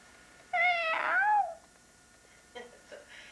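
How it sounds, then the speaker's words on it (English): Cats fighting indoors: one drawn-out, wavering yowl rises close and loud for about a second, followed by quiet and a few faint scuffling sounds. "My cats are fighting."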